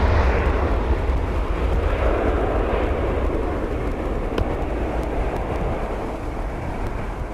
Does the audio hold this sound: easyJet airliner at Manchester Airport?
yes